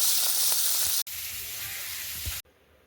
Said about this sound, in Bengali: এবার গুলে মাছগুলো ভাজার জন্য কড়াইতে দিয়েছি